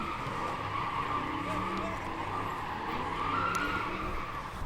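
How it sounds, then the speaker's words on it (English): Continuous roar of skidding car tires with engine noise at an Oakland street sideshow, loud and steady throughout, like cars drifting close by. "You can hear all this tires screeching and everything"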